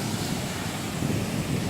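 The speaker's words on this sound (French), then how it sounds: "je suis ravie qu'il y ait des vagues" Sea waves wash steadily onto a Corsican beach, a loud continuous surf roar with wind buffeting the microphone and no voices.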